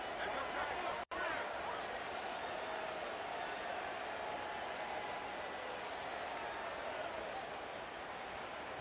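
Stadium crowd roaring during a big third-down play in College Football 27, a dense steady wall of cheering and noise held at high level throughout, broken only by one abrupt instant of silence near the start.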